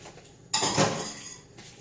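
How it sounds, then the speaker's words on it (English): A kitchen knife drops into a sink with a single sharp metallic clatter, followed by a brief ringing rattle of utensils that fades over about a second. "putting that knife in the sink"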